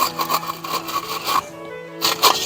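Steel wool scrubbed against the vent holes of a Weber kettle grill, short rapid rasping strokes repeating in bursts with a brief pause near the end, close and fairly loud.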